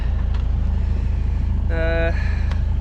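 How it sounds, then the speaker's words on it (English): A sailboat's auxiliary engine runs steadily while motoring through a windless calm on passage to New Zealand, giving a continuous low rumble with a brief tonal whine partway through. "Had the motor on since last night."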